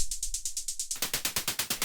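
Rhythmic bursts of white noise with a volume envelope forming a techno hi-hat pattern, first thin and hissy before a bandpass filter, then fuller and brighter through it, steady eighth-note pulses throughout.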